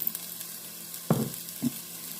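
Onion and pink salt frying in olive oil in a pan, a soft steady sizzle broken by two sharper bursts of crackle as ingredients hit the hot oil, close, no voices.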